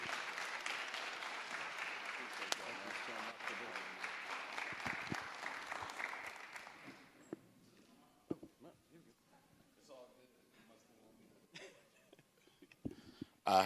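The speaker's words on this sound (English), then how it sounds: "Let's give a round of applause and welcome Dr. Ije." Audience applause welcoming a speaker at a plenary session, loud and dense for about seven seconds before fading, with scattered claps, thumps and footsteps afterward as the room quiets.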